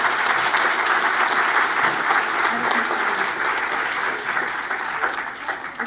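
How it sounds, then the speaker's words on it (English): Audience applause at a kindergarten play, dense and steady clapping from a crowd filling the room, loud at first and easing slightly toward the end. "So we do want to give Melissa a big round of applause"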